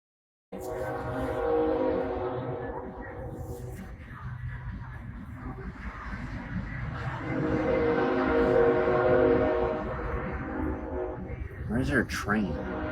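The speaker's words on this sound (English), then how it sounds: "Where's there a train?" A train rumbles past close by for several seconds, loud and steady, with a horn sounding near the end; voices chatter underneath.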